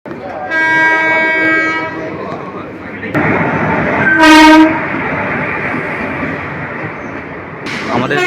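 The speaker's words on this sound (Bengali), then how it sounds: "আমাদের ট্রেন আসবে সাতটা চব্বিশে" A passenger train pulls into a station platform in Murshidabad, with loud rumbling rail noise, a sustained horn blast partway through, and people talking nearby over the clatter.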